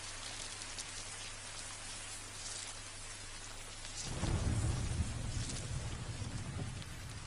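Steady rain hisses down across an open landscape in Death Stranding, and a deep, loud rumble of thunder swells in partway through, rolling on beneath the constant downpour.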